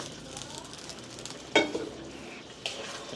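Dinuguan, a Filipino pork blood stew, is stirred in a cooking pan with a low sizzle, a soft scraping spoon and a couple of sharp clanks against the metal.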